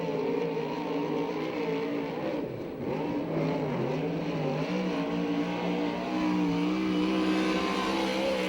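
A 360-powered sprint car runs a qualifying lap at a 2006 USAC/CRA sprint car event in Alger, Washington. Its engine drones steadily and loudly the whole time, pitch swelling and dipping through the corners, with no voices.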